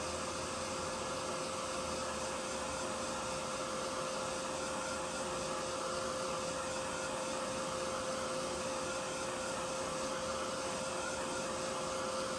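A handheld heat tool blows steadily while drying ink on a handmade card, a constant loud whooshing drone with a fixed whine, unchanging and with no talk.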